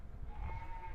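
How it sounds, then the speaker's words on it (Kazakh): Small sheep bleat inside a long barn packed with livestock, a steady held call close by over low rumbling background noise. "Қораның ішінде мал деген толып тұр. Жаңағы ұсақ қойлар екен."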